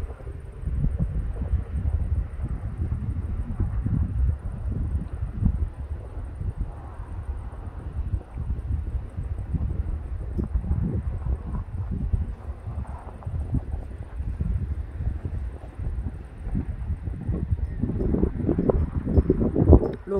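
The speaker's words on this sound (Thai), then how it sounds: "ลมพัดเย็นเย็นค่ะ" Steady wind blowing along the Mediterranean coast, a continuous low rushing roar with gusty swells that build louder near the end, heard alone without talk.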